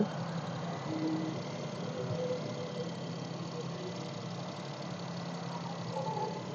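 A used Maruti Alto petrol car engine idles steadily nearby, a smooth continuous rumble with no other sounds.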